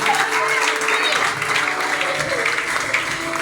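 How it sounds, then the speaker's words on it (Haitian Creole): An audience claps at a ceremony, steady dense applause throughout, close and fairly loud, with voices faintly mixed in. "Applaudissez."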